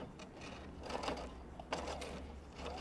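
Sewing machine running a zigzag stitch along the edge of minky fabric, a steady mechanical whirr with faint rhythmic stitching ticks, close and moderately quiet.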